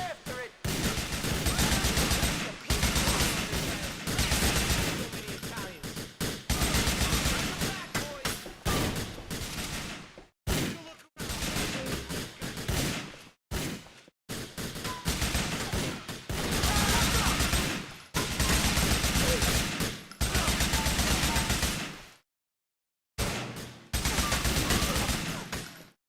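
Loud GTA 4 gunfire rattles in long, dense volleys broken by brief silences, with several weapons firing close by through much of the stretch.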